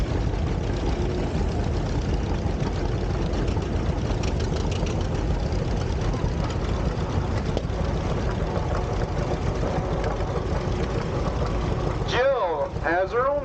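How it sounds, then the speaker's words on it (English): A 1952 John Deere Model 50 tractor with a 28-horsepower engine runs steadily at a show, a continuous low rumbling drone that holds throughout, with a brief change in the sound near the end. "Steve Krause is driving his 1952 John Deere Model 50, 28 horsepower."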